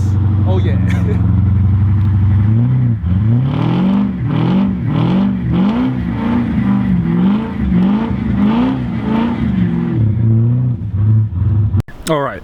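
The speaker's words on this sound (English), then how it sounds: "Snow burnouts." A rear-wheel-drive car does burnouts in snow, its engine revving in repeated rising surges with wheelspin, loud and close, while people talk over it.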